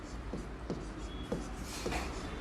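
A marker squeaks in short, faint strokes across a board, about four quick marks in a steady rhythm over a hissy room background.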